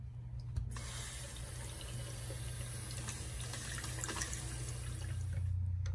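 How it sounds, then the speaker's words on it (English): Tap water runs steadily, filling a small party water balloon in a home sink, with a continuous close hiss and rush that holds at an even level throughout. "Let's fill the rest of the balloon"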